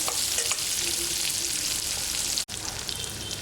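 Onions with drumstick and beans frying in a pan for hotel-style tiffin sambar, a steady close sizzle that holds unbroken throughout with one brief dropout near the end, no voices.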